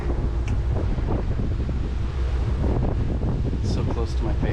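Strong headwind of about 8 knots buffeting a boat out at sea on the Great Bahama Bank, a steady loud roar of wind across the microphone over engine and water rumble, with occasional faint voices underneath.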